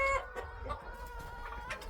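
Pasture-raised hens cluck softly and continuously close by at night, a murmuring chorus of low chicken calls inside a hen house with no one talking.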